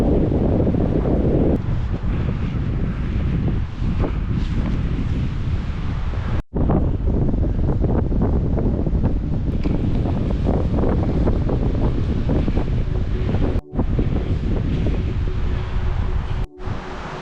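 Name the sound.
strong wind on a mountain summit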